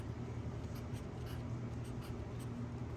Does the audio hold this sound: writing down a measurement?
yes